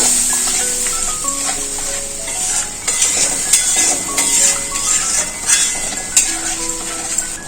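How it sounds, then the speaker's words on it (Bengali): Spice paste with a little water frying and being stirred in a pan while it is cooked down for a vegetarian chana paneer, giving a steady, loud sizzle with scraping spoon and clinking utensil sounds throughout. "বেটে রাখা মশলাটা দিয়ে দেবো অল্প একটু জল দেবো এই মশলাটা খুব ভালো করে কষিয়ে নেবো"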